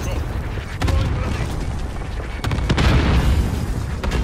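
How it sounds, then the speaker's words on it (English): Cluster strike explosions in Call of Duty: Warzone Resurgence: a dense, continuous barrage of deep booms and rumbling blasts, with sharper bursts layered throughout and a swell in intensity partway through, loud and sustained. "Allied cluster strike inbound."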